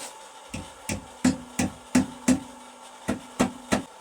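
A hammer striking hot forged metal while shaping a dragon bottle opener, nine sharp ringing blows in an uneven rhythm with a short pause before the last three, close and alone.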